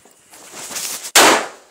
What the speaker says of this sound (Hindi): मैं बम फोड़ने में लगी हूँ यहाँ